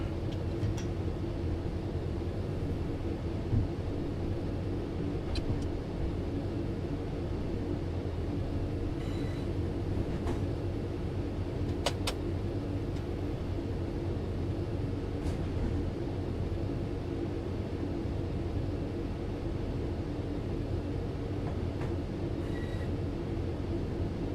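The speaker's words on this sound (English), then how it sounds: "Daddy's driving our train." A steady rumbling train in the video game Train Sim World 5 runs continuously with faint rail clicks and clanks, an even mechanical drone throughout without talking.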